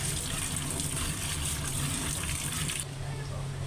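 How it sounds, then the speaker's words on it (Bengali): Cold tap water gushes steadily over boiled noodles being rinsed in a home kitchen, a continuous close hiss that cuts off near the end, with voice-like murmur beneath. "এবার ঠান্ডা পানি দিয়ে ভালো করে ধুয়ে নেব"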